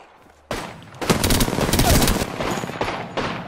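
Rapid automatic gunfire in the video game Apex Legends, loud sustained bursts that start abruptly and continue in clustered volleys with brief gaps.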